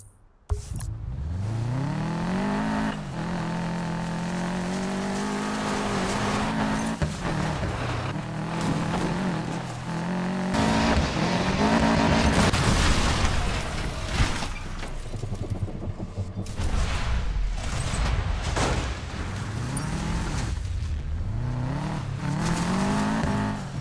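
Off-road driving in Need for Speed Payback, an engine revving hard through repeated rising gear pulls with tire noise and bumps, loud and close, with a few sharp impacts along the way.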